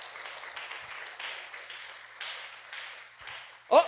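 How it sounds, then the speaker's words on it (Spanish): Church congregation applauding during a Spanish-language sermon, a steady wash of many hands clapping at moderate distance that swells in waves, ending with a brief louder burst of voice. "dale una ofrenda de palmas a Jesús."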